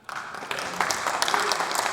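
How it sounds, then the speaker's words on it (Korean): Lawmakers in their seats at a National Assembly session break into applause, a short burst of dense clapping that rises and holds, moderately loud in a large hall. "의원석에서 박수가 터져나옵니다."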